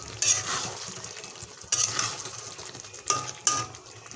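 Chicken pieces are stir-fried in a pan for chicken kosha, with steady sizzling and a spoon scraping and clinking against the metal in several close strokes.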